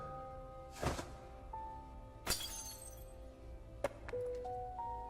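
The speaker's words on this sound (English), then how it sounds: "It hit an overhead light, sending a rainstorm of glass down to the ground." Glass from an overhead light shatters in a long tiled corridor, with three sharp crashes spread over a few seconds and a faint tonal hum in the background.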